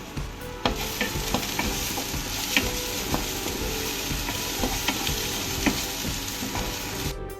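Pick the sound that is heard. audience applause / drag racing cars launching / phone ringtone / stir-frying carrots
stir-frying carrots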